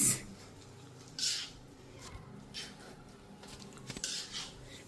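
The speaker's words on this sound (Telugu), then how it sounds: "సో ఇప్పుడు ఇది మొత్తం నేను కలిసేలాగా కలుపుతాను" Spicy rice stirred and mixed in a dish, giving a few scattered scrapes and clinks of a utensil against the vessel, fairly close and moderately loud, with no talk.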